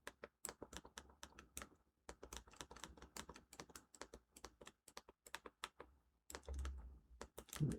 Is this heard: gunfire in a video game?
no